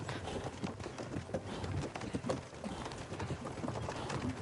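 Horse hooves clip-clop steadily at a trot along a path in Kingdom Come Deliverance 2, a continuous rhythmic patter of close footfalls with no talk over it.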